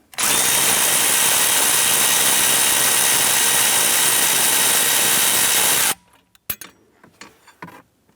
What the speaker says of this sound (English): Using a 10 millimeter socket and extension, let's remove the nut right here on this lower bracket.